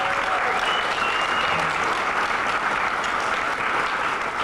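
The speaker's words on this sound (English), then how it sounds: "remain standing and give our award winners yet another round of applause." A standing audience at an awards ceremony applauds award winners, sustained dense clapping filling the room at steady loudness throughout, with no talk.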